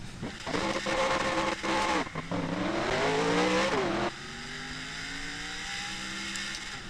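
A race car engine in the NASCAR Racing 2003 video game revs loudly, rising in pitch then cutting off sharply, before settling to a quieter steady engine drone, with no talking.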